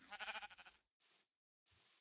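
Sheep in a survival video game give a quavering bleat, then two shorter, fainter bleats after brief silent gaps, close by with no talking.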